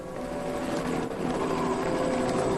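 A medical helicopter carries an alligator-attack victim in Florida, its rotors making a steady, close, loud roar with no talking.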